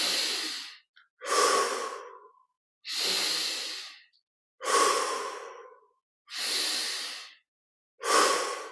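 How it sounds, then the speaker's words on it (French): Slow, deep breathing during a guided meditation, air drawn in through the nose and released through the mouth, six long even breath sounds separated by silent pauses, close and clear. "inspire par les narines, expire par la bouche, en laissant l'air sortir, sans faire d'effort sur l'expire"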